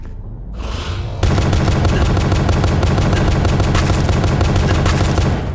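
Gunfire in the pony factory horror game Pony Nightmare: a loud, dense stream of rapid shots that starts after a brief rumbling lead-in and keeps pounding without a break, with no talk over it.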